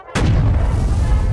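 A tank cannon fires in the tank-design game Sprocket and hits an enemy tank, a single sharp, heavy boom followed by a long, rumbling roll of sound.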